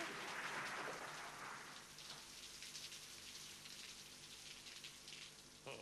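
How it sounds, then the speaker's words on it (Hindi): Rain falls outside as a steady hiss, strongest at the start and then settling into an even wash with scattered drops; no voices. "अरे बाहर बारिश भी है और मजा आ जाएगा"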